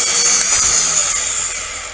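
A Temu electric drill clamped in a matching drill stand and locked on with its trigger button spins steadily, a continuous high whining motor tone that fades slightly over two seconds with no talk.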